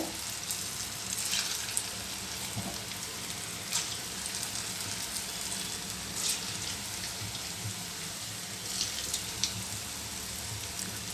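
Urad dal bondas fry in a pan of hot oil over a medium flame, making a continuous crackling sizzle with scattered small pops. No talking.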